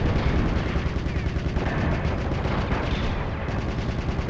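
Dense, loud gunfire in a video game boss fight, with bullets fired to patch holes, forming a continuous rattling barrage with game effects layered in.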